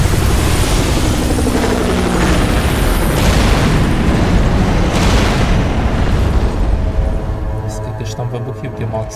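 Long roaring blasts of planted explosives going off in Max Payne 3, a dense, loud rumble sustained through most of the stretch and fading slightly toward the end, with game dialogue and music faintly beneath.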